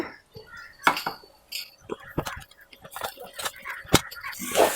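A spoon scrapes and clinks against a pan while coconut rice is stirred, in scattered metallic taps and scrapes, close by, with speech in between.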